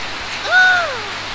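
Steady, close rain falls at a shop, a constant hiss filling the background, while a brief rising-and-falling tonal call sounds over it midway; nobody speaks.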